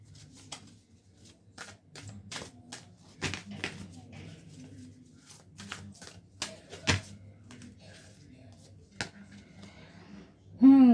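Tarot cards being handled and shuffled during a love reading, a series of crisp riffling snaps and flicks of varying loudness with a few quiet spoken moments in between.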